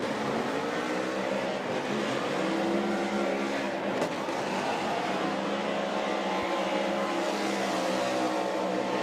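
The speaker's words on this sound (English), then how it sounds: "listen to the celebratory drift machine" A Ford Mustang RTR drift car at a Formula Drift Pro Championship round at Lake Erie Speedway roars through a celebratory drift, a loud sustained engine howl with shifting pitch and tyre noise, continuous and dense from start to finish.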